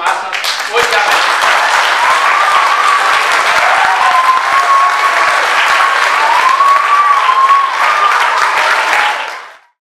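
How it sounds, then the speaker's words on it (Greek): Sustained applause from an audience at a Greek schools' postage stamp exhibition in Bielefeld, a dense, steady wash of clapping lasting nearly ten seconds before cutting off, with faint voices mixed in. "Γι' αυτό το λόγο θέλω το χειροκρότημά σας, όχι για μένα."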